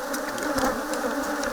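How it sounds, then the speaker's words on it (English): Honey bees buzz steadily at a smoked beehive during harvesting in Kenya, a close, continuous drone with no talking. "So now we are smoking the beehive to make the bees docile"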